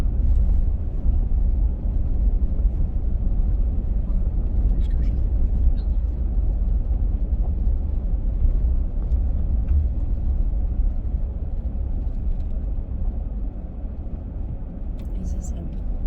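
Car rolling slowly through an RV park along Route 66 between Webb City and Carthage, Missouri, giving a steady low road rumble and engine drone throughout, with faint brief clicks on top.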